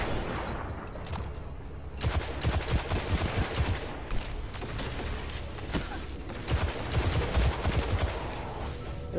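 Rapid gunfire in Destiny 2 with dense, continuous bursts of close shots and booming impacts over a loud game mix throughout.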